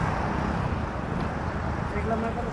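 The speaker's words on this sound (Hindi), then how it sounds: "यहाँ पे काफ़ी ज़्यादा ट्रैफिक चल रहा है" Steady traffic on a busy main road, a dense broadband rumble of engines and tyres holding constant throughout, mostly buried under a person talking close by.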